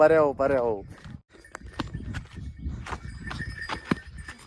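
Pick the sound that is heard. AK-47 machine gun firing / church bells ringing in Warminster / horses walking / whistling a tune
horses walking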